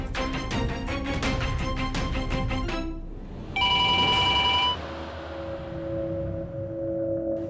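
Landline telephone ringing for an incoming call, a loud burst of rapid electronic ringing followed by a brighter chime and a lower sustained tone, over a dense background of music.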